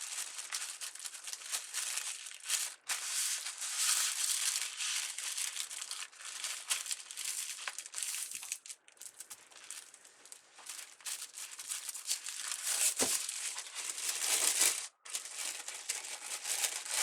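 Tissue paper crinkles and rustles almost nonstop while 2022 wreath-photography calendars are wrapped by hand. The dry, close crackle runs for the whole stretch with only brief pauses.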